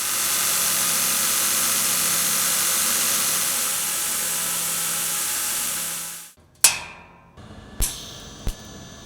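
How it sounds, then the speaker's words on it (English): Angle grinder cutting metal hinges to shorten them, a loud steady high-pitched whine lasting several seconds before spinning down, followed by a few sharp metallic knocks. "so I'll just use the grinder for that."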